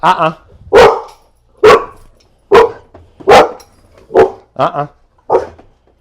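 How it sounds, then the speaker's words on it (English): A pit bull in a crate barks loudly and repeatedly, about eight sharp barks at a steady pace, close by with quiet gaps between them. "I don't care that she's barking right now."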